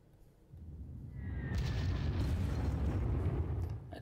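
Bombing explosions in the wargame Panzer Campaigns: a deep rumbling blast swells in after a brief quiet and rolls on loudly as a sustained, dense roar to the end.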